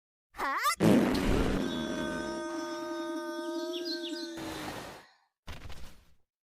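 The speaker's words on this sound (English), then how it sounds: "the bride let out a tremendous fart" A long, exaggerated cartoon fart effect for a comic folktale: a sputtering start swells into a sustained buzzing, trumpeting tone for about four seconds, then a short final puff after a pause.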